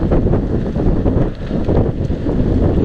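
Strong wind buffeting the microphone while riding a bike outdoors on a cold, windy day, a continuous loud rushing roar with no other sounds.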